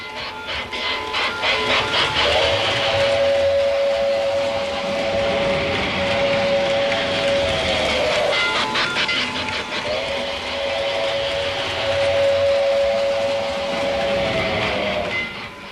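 Model train running through a desert scene on a large layout near two Lionel oil wells, a steady rolling clatter with a sustained whistle-like tone sounding twice, continuous and fairly close with no talk.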